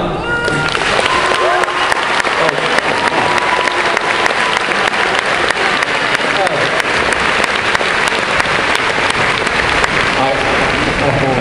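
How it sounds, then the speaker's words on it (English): A debate audience claps loudly and continuously, a dense, even patter of many hands that holds for over ten seconds. "there are people who clap absolutely anything"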